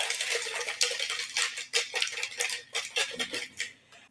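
A metal spoon stirring tea in a cup, a quick run of bright clinking taps against the ceramic, close and fairly loud, with no talk over it.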